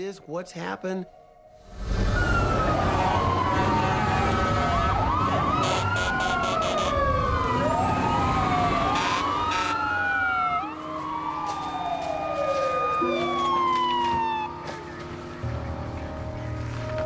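A wailing fire engine siren rises and falls repeatedly over rumbling traffic, loud and near, with horn-like blasts and voices mixed in.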